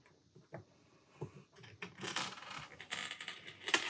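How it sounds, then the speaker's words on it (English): Metal washers fitted onto the bolts of a book press: light metallic clinks and small rattling contacts, close and alone, growing busier toward the end. "Go ahead and put your washers on."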